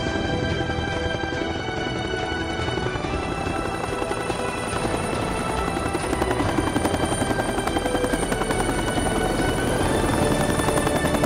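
Rescue helicopter in the Sierra de Santiago mountains near Monterrey, its rotor thumping steadily and loudly throughout, engine whine constant and close with no pauses.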